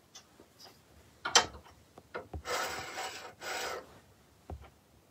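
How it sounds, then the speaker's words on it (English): A V-flute woodturning gouge is sharpened on a slow speed grinder, with a few light taps and then two sustained rasping grinding passes along the tip and wing, close and moderately loud, with no talking. "Sharpen a little bit longer on the tip and on the very back of the wing."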